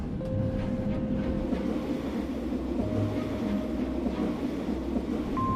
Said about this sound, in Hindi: रेलगाड़ी जोरदार आवाज करते हुए चल रही है।